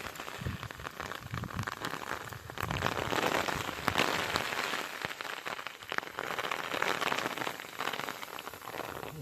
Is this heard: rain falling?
yes